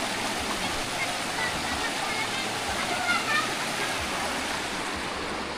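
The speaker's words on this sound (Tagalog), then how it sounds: "Mahaba tong ilog dito na pwede mong pag-swimming no." Steady rushing river water at a swimming resort, a continuous broadband flow filling the whole stretch at moderate level, with no distinct splashes standing out.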